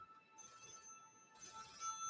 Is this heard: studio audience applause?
no